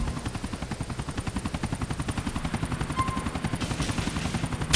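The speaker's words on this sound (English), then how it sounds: "Get rid of the chopper with it." A helicopter in Grand Theft Auto 4, its rotor thumping in a fast, steady rhythm, loud and close for nearly five seconds with a brief burst of noise near the end, no talking.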